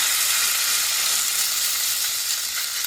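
Mashed potato sizzling and frying in sunflower oil on a griddle, a steady loud crackling hiss that holds evenly throughout with no talking.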